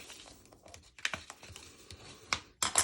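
Quiet scraping and crinkling of label paper as a tool burnishes along fold lines, in short irregular strokes, ending with a louder rustle.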